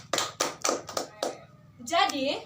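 Classroom students clapping their hands together in a short burst of sharp, near claps at an uneven pace, then a teacher starts speaking as the clapping stops.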